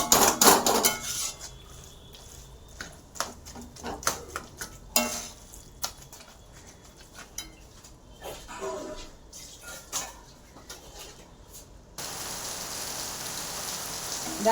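Fish pieces being sautéed in a pan over medium heat, with a spatula clattering and scraping against the metal in irregular bursts over a soft sizzle that rises to a steady hiss near the end.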